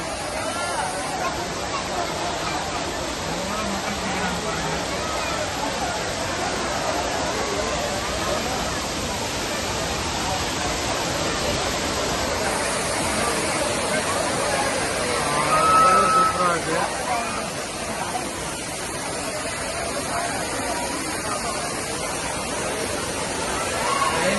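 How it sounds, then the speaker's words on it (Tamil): Heavy water plunges down the Five Falls at Kutralam, a steady, close roaring wash that lasts throughout, with crowd chatter and voices mixed in. "தண்ணி நிறைய தான் கொட்டிகிட்டு இருக்குது என்ன சூப்பராக இருக்கு பாருங்க ஐந்தருவி"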